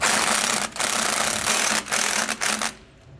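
A ratchet tightening U-bolts on a Roadmaster Reflex steering stabilizer bracket of a 2018 Entegra Coach Insignia gives a fast, continuous clicking buzz close up, broken by brief pauses before it stops near the end.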